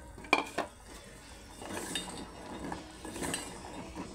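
Wheat-flour gavvalu drop into melted jaggery in a pan with a few sharp clinks and clatters of utensil on metal, followed by softer stirring and sizzling.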